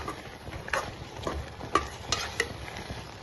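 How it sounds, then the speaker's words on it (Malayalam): Coconut, cumin and garlic paste being stirred into a yam and green gram curry in a pan, with a low sizzle under a few sharp scraping and clinking strokes of the spoon, close and moderately quiet. "നല്ലപോലെ ഇട്ടിളക്കണേ"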